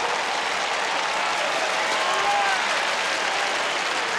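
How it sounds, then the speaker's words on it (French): A large stadium crowd applauds for the world-famous baritone Enrico Palazzo, a loud, continuous wash of clapping and cheering with no voices rising above it. "Je vous demande d'applaudir très fort le baryton mondialement connu Enrico Palazzo."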